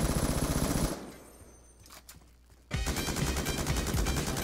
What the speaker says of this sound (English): Shoot all my bullets until I find you.